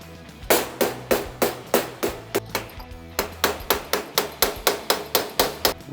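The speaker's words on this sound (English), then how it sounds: "even though we're hitting this with a piece of wood, a soft tool, we can still stretch metal where we don't want to." A wooden soft tool strikes a sheet metal tailgate in steady, evenly spaced blows, about three per second, each a sharp close knock with a short metallic ring, with a brief pause midway.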